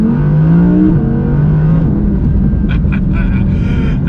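An entry-level rear-wheel-drive Audi R8 revs while driving, its engine note rising and falling as a close rumbling drone under continuous talk from the driver.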